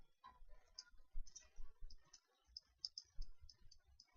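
Light, crisp clicks of a computer mouse come in quick irregular bursts, close and fairly quiet, while sculpting a head model in Maya.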